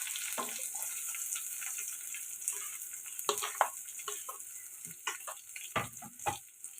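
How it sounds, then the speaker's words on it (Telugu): Chopped onions, green chillies and curry leaves fry in a pan with a faint sizzle, overlaid by irregular stirring clatters and light knocks that grow busier in the second half. "ఉల్లిపాయలు ఎలా ఫ్రై అవుతున్నాయి కదండి"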